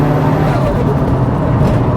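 Mitsubishi Evo 9 engine while driving, a loud, close, steady low rumble with a droning hum, heard from inside the car with faint talk in the background.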